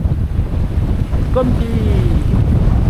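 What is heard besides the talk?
wind blowing on a boat off Lemnos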